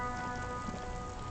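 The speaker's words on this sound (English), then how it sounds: "It's raining outside." Rain falling in the video game Disco Elysium, a steady soft hiss of drops, even and continuous over a low ambient hum, with no voices.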